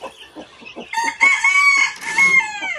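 A penned rooster on a small farm crows once, loud and close, its call rising and holding before trailing off, after a few softer clucks.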